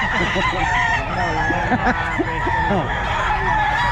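Chickens and roosters at a poultry market in Bulacan crow and cluck repeatedly and close by, several birds calling over a busy background din.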